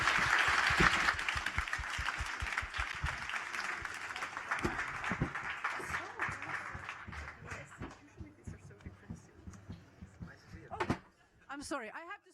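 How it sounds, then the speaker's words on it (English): Panel audience at a film market event applauds at the close of a report session, dense clapping at first that thins into scattered claps and fades, with a voice briefly rising near the end. "Please give our panelists a huge round of applause."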